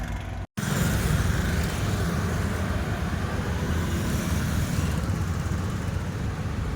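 Heavy road traffic on Delhi roads toward Panipat, heard from a moving bicycle: a steady, loud roar of passing cars and larger vehicles with wind rush, broken by a brief dropout near the start.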